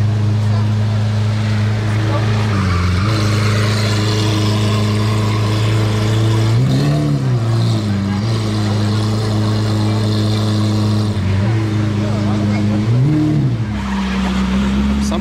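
A car with an aftermarket exhaust and Novitec wheels rumbles loudly close by on a Monaco street, its deep engine note rising and falling with throttle blips, with people talking over it.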